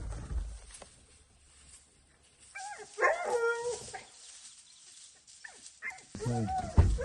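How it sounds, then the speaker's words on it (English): A crossbred dog, close by, gives a few sharp barks and yips mixed with high whimpering whines, in uneven bursts separated by quiet gaps. "What a crossbred dog."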